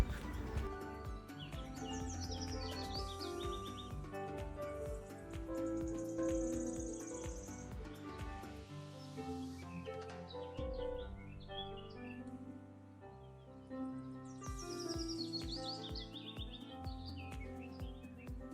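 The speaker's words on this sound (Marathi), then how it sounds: "आजूबाजूच्या पक्ष्यांचा आवाज" Birds chirp and call outdoors at Karnala Fort over a steady background of crickets, the songs coming and going at a moderate distance, fairly quiet overall.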